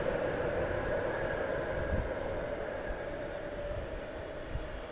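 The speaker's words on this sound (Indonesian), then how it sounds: "Nah, ini ada kereta lewat." A train rolls past close by at a station, a steady loud rumble of wheels on rails with a faint high squeal running through it.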